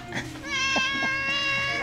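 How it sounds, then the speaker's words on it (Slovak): A squeaky cat in Thailand lets out a drawn-out, high-pitched meow with a few short chirps mixed in, loud and close. "Oni majú v Thajsku samé pískacie mačky."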